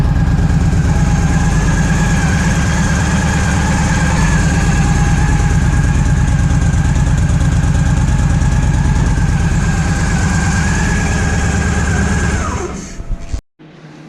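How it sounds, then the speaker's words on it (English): A 2007 Yamaha V Star 1300 motorcycle with its stock exhaust idles close by in a loud, steady, even rumble for about twelve seconds, then the engine shuts off abruptly. "This is what the stock exhaust sounds like."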